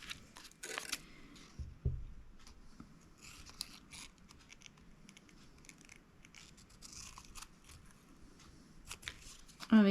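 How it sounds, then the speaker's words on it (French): Vintage paper labels being cut out with scissors, giving soft, intermittent snips and paper rustles at close range over a quiet room, with a faint voice and a few handling knocks. "Je finirai de découper après avec les notes de musique"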